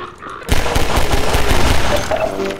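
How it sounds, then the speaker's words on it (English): Shotgun fire in the first-person shooter Half-Life 2: Episode Two, a dense loud burst of overlapping blasts that begins abruptly after a short lull and continues steadily. "Shotgun."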